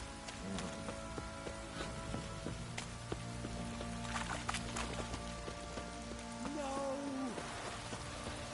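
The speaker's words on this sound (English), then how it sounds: "This Fucking downpour's a bastard" Heavy rain from a downpour in a video game hisses continuously across the whole stretch, with faint incidental game sounds and a few soft tonal blips layered underneath.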